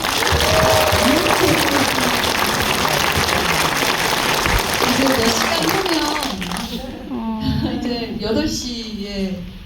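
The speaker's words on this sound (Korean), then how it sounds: "우리가 서로에게 박수 한 번만 쳐볼까요?" A cinema audience at a stage greeting for the film Sinmyeong at Lotte Cinema Jamsil breaks into loud, dense applause that fills the room for about six seconds, then fades as a voice speaks over the last scattered claps.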